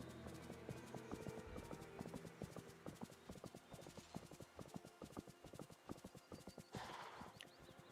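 Rapid rhythmic hoofbeats of a galloping horse in Disney Dreamlight Valley clatter steadily near and clear, with a brief whinny toward the end.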